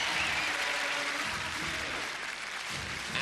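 Large television studio crowd clapping together at a Gladiators heat, a dense, loud, steady wash of applause with no talk over it.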